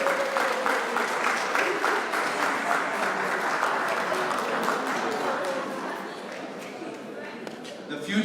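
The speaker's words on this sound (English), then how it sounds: "Everybody, give a big round of applause for Moti" An audience at a Siyum Hashas Daf Yomi memorial gathering breaks into sustained applause for Moti Oziel. The dense clapping stays loud for several seconds, then thins and fades toward the end.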